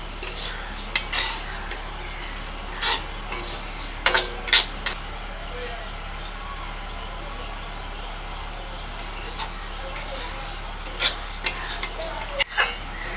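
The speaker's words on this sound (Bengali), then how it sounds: "হালকা ব্রাউন করে মুগ ডালটা ভাজবো।" Moong dal being stirred and dry-fried in a pan, a spoon scraping and clinking against the metal in scattered bursts over a steady low hiss, close up with no talking.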